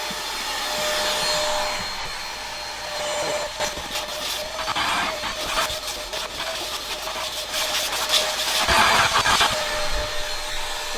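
A vacuum cleaner runs off DSTek lithium batteries, giving a steady whining motor hum with a constant tone that continues through the whole stretch, mixed with some rattling and background noise.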